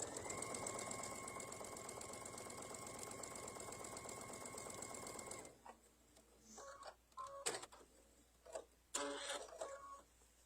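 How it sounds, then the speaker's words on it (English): Sewing machine running fast on quilt table topper pieces for a cactus flower design, a steady whirring stitch for about five seconds before stopping, then faint clicks and handling sounds. "Okay, so we're going to sew these on."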